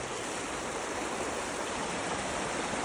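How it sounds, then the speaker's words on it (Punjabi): Canal water rushes past at full speed, a steady, even roar of flowing water that holds constant throughout, with no voices. "ਨਹਿਰ ਦੀ ਪਾਣੀ ਦਾ ਸਪੀਡ ਵੀ ਲਾ ਲਓ ਬਈ ਜੇ ਉੱਥੇ ਕੋਈ ਬੰਦਾ ਕਹੇ ਪੂਰਾ ਫੁੱਲ ਸਪੀਡਾਂ ਦੇ ਪਾਣੀ ਚੱਲਦਾ"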